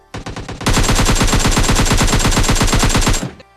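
Rapid automatic gunfire in a shooting video game: a short opening burst, then a loud, continuous stream of evenly spaced shots lasting about three seconds before stopping abruptly.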